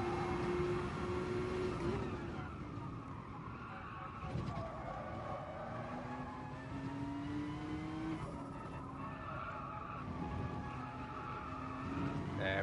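Race car engine in Gran Turismo Sport, droning loudly and continuously with rising and falling gear pitch as the car accelerates and shifts up, with tyre noise and commentary talk over it.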